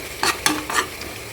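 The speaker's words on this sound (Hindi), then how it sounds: "अब इसकी थोड़ी सी हल्की सी भुनाई करने के बाद मैं इसमें घिया भी ऐड करती हूँ" Chicken and cumin lightly frying before bottle gourd goes in, three quick scraping stirs over a low sizzle, close and brief, no voices.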